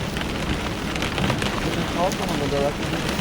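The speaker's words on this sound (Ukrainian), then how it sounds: "Ні, рахуй, тільки дощ паде" Steady rain pours down in a dense, continuous hiss during a severe thunderstorm at a country house, with faint sounds of movement mixed into the downpour.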